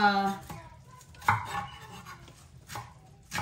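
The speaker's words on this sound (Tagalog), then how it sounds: "Malaki kasi yung sibuyas, so hatiin lang po natin pala, okay?" A knife chops through a large onion on a cutting board, with a few sharp, distinct cuts spaced out over a few seconds, close and fairly loud, and no talking.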